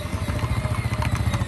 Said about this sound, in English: This is our tractor that we do all the lawn mowing in.